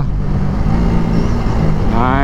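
A motorcycle ride on a road, its engine a continuous low rumble mixed with rushing wind noise, loud and close throughout, with a rider's voice talking over it.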